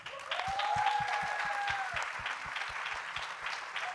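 Steady applause from a seated audience at a literary event, moderately loud and sustained, with a faint tonal hum and regular low thumps underneath.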